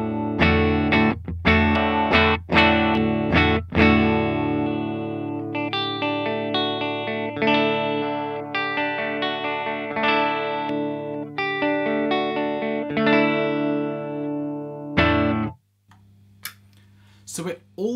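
An electric guitar played through effects after its neck pickup has been lowered: strummed chords ring out with sharp attacks, first in a quick choppy rhythm, then sustained, before stopping abruptly and giving way to a few scattered notes.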